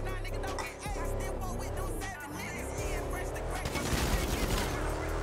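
Rapid bursts of gunfire in a New York City roleplay video game, loud and dense toward the end over a constant engine-like rumble and music.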